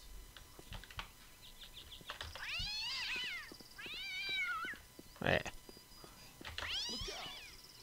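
A cat in the video game Postal 2 meows several times, faint and drawn out, with separate cries spaced a second or two apart and small clicks between them.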